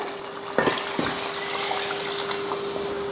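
Water is poured into a pot while making Ambur chicken biryani, a soft, steady trickling splash after a couple of brief knocks, heard close and moderately quiet.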